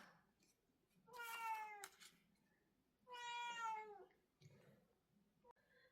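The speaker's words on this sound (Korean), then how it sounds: "지금 고양이가 울고 있어요" A cat meows twice indoors, two long, drawn-out wailing calls separated by a pause, heard fairly faintly against a quiet room with a small soft sound near the end.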